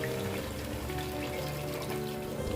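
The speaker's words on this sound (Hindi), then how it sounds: "तो अब इसमें हम 4 कप पानी डाल देंगे" Four cups of water poured into a pot of browned chicken kabsa gravy, a steady, close, splashing rush of liquid that holds for the whole moment without talk.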